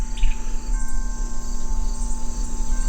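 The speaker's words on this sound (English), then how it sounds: "Do you hear the crickets?" Crickets chirping in a steady, continuous trill, close and clear, with a constant high tone alongside and no voices.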